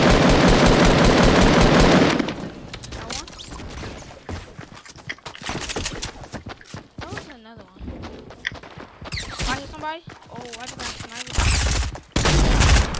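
Rapid bursts of automatic gunfire in Fortnite Battle Royale, loud and close at first, then scattered shots and sharp cracks while players chatter over them.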